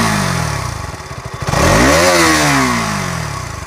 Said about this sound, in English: But when you rev it harder,